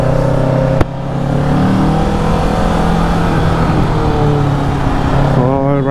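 A 2023 Kawasaki Ninja 650 sport bike engine accelerating up through the revs, a loud close steady drone with rising pitch after a sharp start, and another rev climb near the end.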